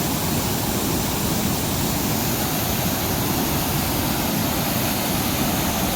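Water rushes steadily over rocks in the stream at Durga Falls near Karkala, a dense, unbroken roar that fills the scene at close range with no voices.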